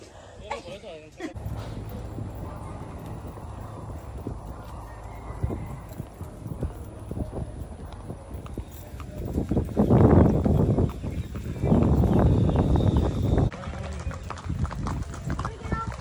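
A horse being ridden outdoors, its hooves clip-clopping in a steady walking rhythm, close by and moderately loud, with people talking over much of it.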